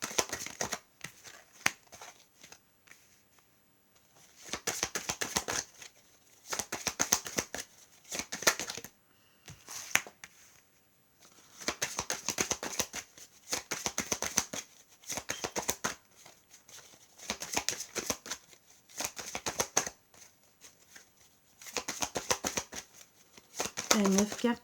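Cards are shuffled and drawn for a card reading in repeated bursts of crisp riffling and flicking. The bursts are separated by short pauses and recorded up close.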